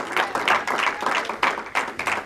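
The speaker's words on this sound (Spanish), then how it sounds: "Dele palmas al Señor. Si son para Él, désela fuerte, mi amado." A church congregation claps together in praise, a loud, steady rhythm of roughly a dozen beats with no voices over it.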